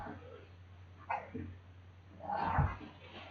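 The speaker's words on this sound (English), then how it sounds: "sorry about that, it's my dog" A pet dog indoors during a piano lesson gives a few short barks and yips, spaced apart. The sounds are fairly faint, with low room hum beneath them.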